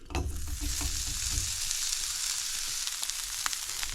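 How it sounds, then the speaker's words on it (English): Sausage sizzles steadily in a hot pan, a close, continuous crackling hiss with a few light clatters at the start and no voices. "So we're going to start by getting our sausage into our hot pan."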